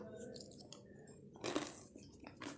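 Close, quiet chewing of food while onions are being cut, soft wet crunching bites in uneven bursts with a couple of louder chomps, no talking.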